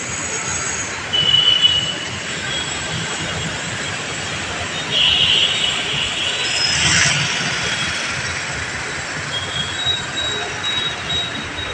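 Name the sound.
metro train at Jubilee Hills metro station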